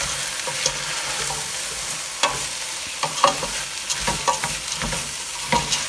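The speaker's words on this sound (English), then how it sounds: "Give everything a really good stir." Pea soup seasoned with dried thyme stirred in a pot, giving a continuous soft simmering hiss with intermittent scraping and knocking of the spoon against the pot.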